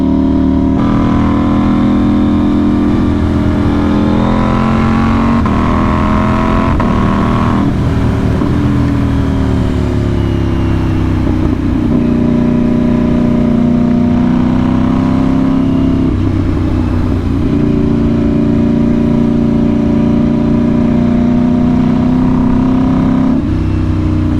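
A 2025 KTM 990 Duke motorcycle engine drones loud and close as the bike rides along an open road, its steady note rising and falling through gear changes over the whole stretch, with no voices.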